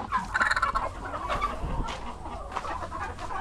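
A flock of chickens clucks and murmurs close by, overlapping chatter with a few louder squawks near the start, continuing steadily throughout.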